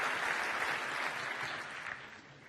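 Applause from a large audience at the FIFA Ballon d'Or 2012 awards ceremony in a hall, a steady dense wash of clapping that holds throughout and slowly fades, heard at a distance.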